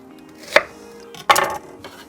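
Two sharp knife strokes cut vegetables lengthwise into strips on a board for a stir-fry, crisp close chops about a second apart with a trailing scrape, no voice.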